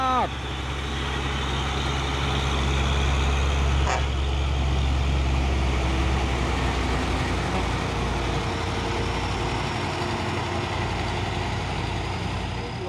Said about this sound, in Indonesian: ada truk Trinton ini ya,